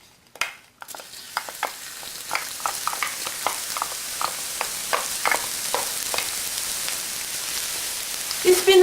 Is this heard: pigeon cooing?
no